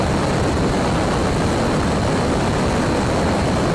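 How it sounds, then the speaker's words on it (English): A rocket engine ignites and lifts off from Launch Complex 1A on the Atom OFT mission, a loud, dense, continuous roar filling the whole stretch without a break. "Ignition. Liftoff."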